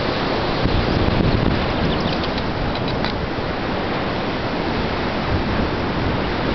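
Steady roar of wind and surf at Praia da Galheta beach in Florianópolis, a continuous broadband wash with heavy wind buffeting on the microphone and no voices.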